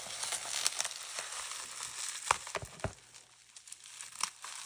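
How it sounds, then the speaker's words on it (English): A package of art supplies being unwrapped makes faint crinkling and rustling, with a few sharper tearing snaps scattered through the few seconds. "Let's see if we can unwrap this."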